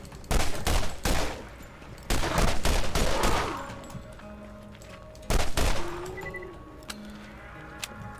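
Gunfire in the Borderlands GOTY Enhanced video game played in VR. Loud bursts of rapid automatic fire come in short volleys, separated by quieter gaps with faint electronic tones and game effects, and no voices.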